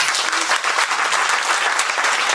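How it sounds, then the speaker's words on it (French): A crowd bursts into dense, continuous applause for a deputy at a poetry night in a media library, loud and close with no pauses. "des applaudissements, s'il vous plaît, pour sa présence"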